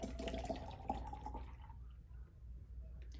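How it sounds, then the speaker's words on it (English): Water pours into a mindfulness jar already tinted with red food coloring, a faint splashing trickle that stops partway through and leaves quiet behind. "Now I'm gonna add a little bit more water."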